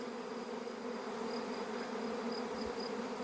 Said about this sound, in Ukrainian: Ось можемо бачити, як виходить рій.